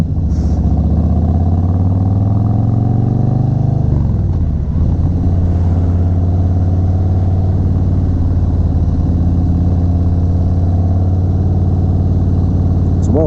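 A 2019 Harley-Davidson Softail Slim motorcycle engine runs steadily and loudly up close, pulling onto a highway and gaining speed, with a shift in pitch partway through and a constant deep rumble.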